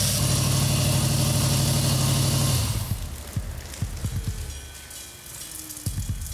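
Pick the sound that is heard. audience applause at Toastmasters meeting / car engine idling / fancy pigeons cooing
car engine idling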